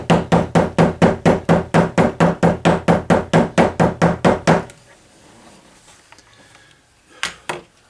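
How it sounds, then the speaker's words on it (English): A hammer pounds down the stitching on a leather holster for a Mauser HSC pistol, about twenty loud, even, rapid blows in steady rhythm, then quiet with two last lighter taps near the end. "just hammer this down."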